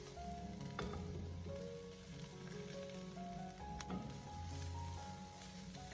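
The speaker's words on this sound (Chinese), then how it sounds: "我们将辣椒给它持续的翻炒个大概1分钟" Green chili peppers stir-fried and pressed with a spatula in a hot pan, blistering in oil: a continuous close sizzle with occasional scraping, and no talking.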